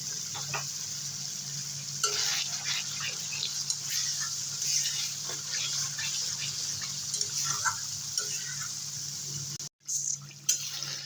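Spice masala frying in oil in a pan for a curd-and-ridge-gourd curry, a steady sizzle with intermittent spoon scrapes and stirring, briefly cut off near the end.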